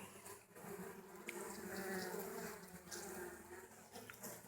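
Low, continuous buzzing of many honeybees close by in a hive with a wax moth infestation, steady and droning with no talking.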